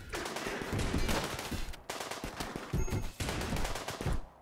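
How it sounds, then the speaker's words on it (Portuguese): Rapid bursts of automatic gunfire in the video game Rimworld, dense crackling volleys that break off briefly, resume, and then fade out at the end. "Você tá vendo que tá tendo um, tiroteio aí, ô Persephone?"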